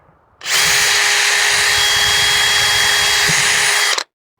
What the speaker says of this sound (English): I'm gonna drill one hole on the left, one hole on the right.